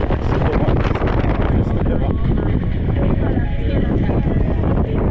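Strong wind buffets the microphone from the left, a continuous loud roaring rush with no breaks, recorded outdoors on a Crimean coastal route near Lisya Bay.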